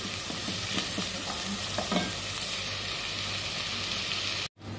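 Onions sautéing in a pan in a quiet kitchen, a steady soft sizzle with occasional stirring scrapes, close and alone, cut off abruptly near the end.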